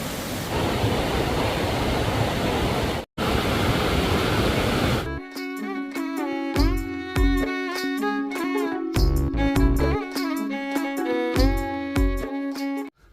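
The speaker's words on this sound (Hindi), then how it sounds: "यहाँ पर भी पानी काफ़ी तेज़ बहने लग गया और शोर भी बहुत ज़्यादा हो रहा है" Loud, steady rushing of a swollen, fast-flowing mountain stream fills the first five seconds, then cuts out briefly before music takes over.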